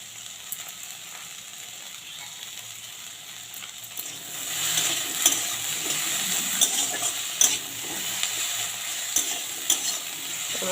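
Tomato sizzles as it fries in a pan for a poppy-seed onion-stalk dish, with a steady hiss broken by scraping stirs and clicking taps of a spatula, no voices.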